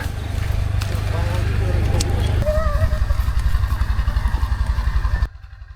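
A motorcycle engine on a road trip in Dalat, Vietnam, idles with a steady low throb that turns into a faster chugging pulse, then cuts off abruptly near the end.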